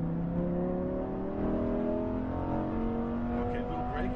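Heard from the cockpit, a Lamborghini Huracan Performante accelerates on a race track, engine pitch rising smoothly in loud, sustained harmonics, with an instructor's voice speaking over the roar.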